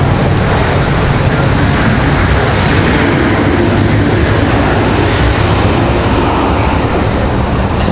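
A JetBlue airliner's jet engines roar loudly and steadily at Raleigh-Durham International Airport, a dense, unbroken wash of noise close by with no voices.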